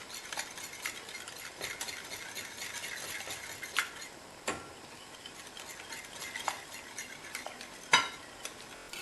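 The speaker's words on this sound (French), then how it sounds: "Essayez de mélanger un peu plus vite parce que sinon tu vas faire retomber le blanc" Batter is stirred and folded by hand with beaten egg whites, a steady soft scraping broken by sharp clicks of the utensil against the bowl, close and moderately loud, with no talking.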